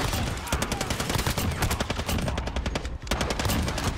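A FINN LMG machine gun in Modern Warfare fires in long, rapid, sustained bursts, loud and close, with one brief pause partway through.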